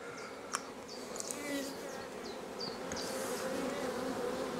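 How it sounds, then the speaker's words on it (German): Honey bees buzz steadily at the hive of a late-May apiary, a dense continuous hum with individual bees zipping close past now and then, with no talk over it. "Schauen wir uns einfach noch ein Bienenvolk an."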